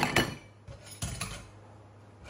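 Dishes are washed by hand, heard as a few sharp clinks and clatters of plates and utensils knocking together, moderately close, with quieter gaps between the impacts.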